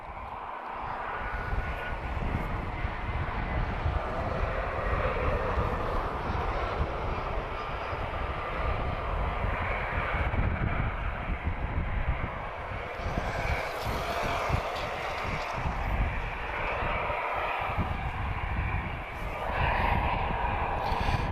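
A TAP Air Portugal Airbus A320-214 inbound from Faro passes at the airport, a steady broadband jet engine roar at moderate distance that swells and holds over about twenty seconds with no talking.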